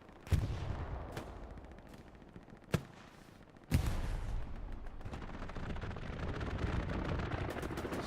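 An aircraft strafing run in Hell Let Loose hits the ground as a series of sharp gunfire bursts and impacts. These break up a low battle rumble, and a heavier sustained roar of fire comes in partway through, with no talking.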